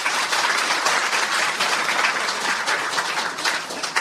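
Meeting attendees at a Korean American association's extraordinary general assembly in Los Angeles applaud to approve a motion, dense steady clapping filling the room for several seconds.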